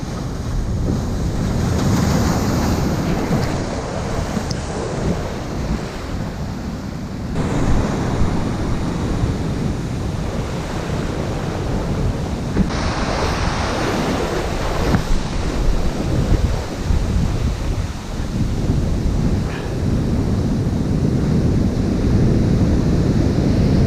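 Heavy waves break hard on an island shore, a loud surging roar with repeated crashes and buffeting wind on the microphone, no voices over it.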